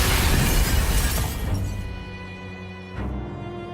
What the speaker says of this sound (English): Behemoth slams the crystal on the ground, sending shattering crystal fragments flying everywhere